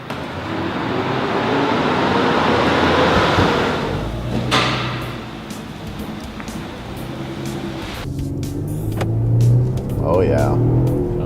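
An Infiniti car drives along with a steady, fairly loud engine rumble and road noise that swells and eases, while people talk inside the cabin.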